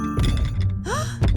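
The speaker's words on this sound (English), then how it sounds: "That's the sound of big feet." Big cartoon feet stomp toward the listener, heard as two heavy, low thuds about a second apart. A faint tonal ring runs between them. No one talks.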